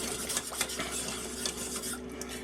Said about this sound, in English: And we're going to stir this in, and it should start getting thick here in just a little bit.